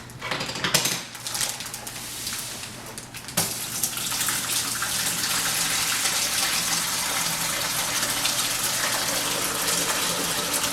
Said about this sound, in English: So we're just going to pour this juice into the bucket.